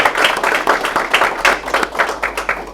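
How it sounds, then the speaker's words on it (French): A small audience claps in brisk, uneven bursts, fairly close and loud, without any speech. "Est-ce que vous pouvez applaudir pour lui?"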